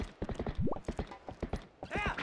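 A horse gallops in the video game Twilight Princess, its hooves clip-clopping in a fast, steady rhythm up close, with a brief neigh-like rising tone and game sounds mixed in.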